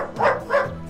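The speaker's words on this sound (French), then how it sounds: "Sortant du couvert, Waterloo se mit à aboyer." A dog gives two quick barks, close and clear, in an audiobook.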